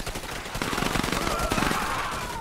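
Video game gunfire during an assault on enemy fighters: a steady run of rapid shots, moderately loud, with a voice briefly audible over the fire.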